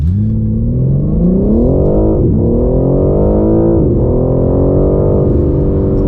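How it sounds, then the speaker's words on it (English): A BMW G80 M3 Competition with xDrive in Sport Plus accelerates hard on slippery, icy winter roads, its loud engine climbing steadily in pitch, broken by two brief gear-shift dips, heard close from inside with no talking. "That's quite impressive, the way this car accelerated."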